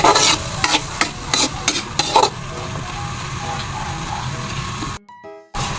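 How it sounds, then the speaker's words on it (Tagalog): Peeled shrimp hit a hot frying pan and sizzle steadily, with a few scraping stirs of a utensil against the pan at the start and a brief dropout near the end. "Tapos isusunod ko na ang hipon."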